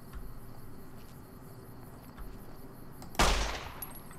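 A single gunshot in Fallout New Vegas, one sharp loud crack with a short decaying tail, heard after several seconds of quiet ambient game background with no talk.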